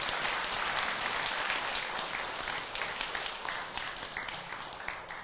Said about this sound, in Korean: 박수 한번 보내드리라.